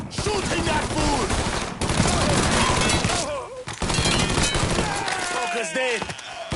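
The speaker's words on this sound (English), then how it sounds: "Shooting that fool!" Heavy gunfire in Mafia 3 pounds out in dense, overlapping bursts with crashing impacts, nearly continuous and loud, with voices shouting over the din.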